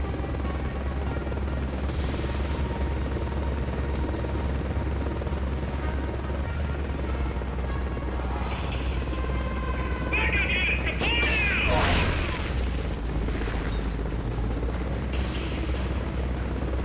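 A helicopter drones steadily in Metal Gear Solid: Peace Walker, a constant low rotor hum that stays level throughout, with brief game effects and a burst of noise near the middle.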